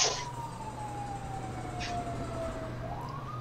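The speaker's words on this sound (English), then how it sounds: "Oh, now I hear sirens." In GTA 5, a police siren wails with a single slow falling tone that rises again near the end, fairly faint and distant under a low background hum.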